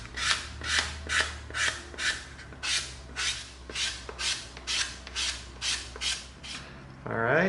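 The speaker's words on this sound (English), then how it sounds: "Now we'll come in with our 220 sanding stick." A 220-grit sanding stick rubs over EVA foam while a Mega Man sword prop is being shaped, giving about a dozen steady, rhythmic rasping strokes, close and fairly loud, with no talk.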